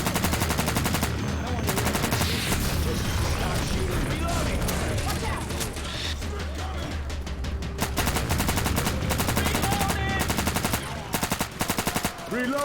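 Rapid automatic gunfire from Left 4 Dead 2 rattles in dense, sustained bursts that pause briefly, then resume in sharp repeated volleys toward the end, with voices talking underneath throughout.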